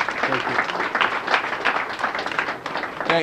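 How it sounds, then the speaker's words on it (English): Audience applause for the mayor at a Boston youth recognition celebration, a steady, dense crowd clapping that fills the clip with a voice briefly heard near the end. "Let's give the mayor a round of applause."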